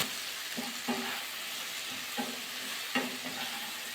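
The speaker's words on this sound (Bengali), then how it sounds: "ওলকপিগুলো দিয়ে দিলাম, আবার একটু নাড়াচাড়া করে দিলাম।" Kohlrabi stirred in a frying pan with salt, quiet spatula scrapes recurring every second or so over a low steady sizzle.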